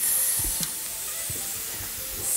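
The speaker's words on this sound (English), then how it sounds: "Sizzling." Freshly roasted food sizzles just out of a hot oven, giving a steady close hiss with a few faint taps underneath.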